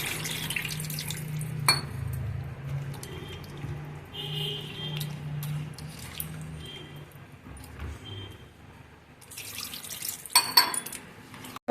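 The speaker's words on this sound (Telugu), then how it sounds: "ఒక గ్లాస్ వాటర్ పోసాను" Water from a glass pours into a pot of spicy Andhra-style Nellore fish curry with a steady liquid rush, followed by light stirring and a few clinks of a utensil against the pot near the end.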